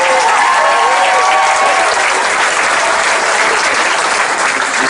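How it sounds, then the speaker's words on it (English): Loud, sustained round of applause from a crowd for the chairman of Universal Parks and Resorts at a grand opening celebration at Universal Orlando, with a few cheers rising early on, continuous to the end. "Brian and Steve, when the chairman of Parks and Resorts gets a big round of applause, you realize you're playing a road game here"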